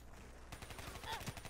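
Rapid enemy gunfire in the video game Black Ops III, a quick burst of repeated automatic shots after a quieter moment, faint and fairly distant.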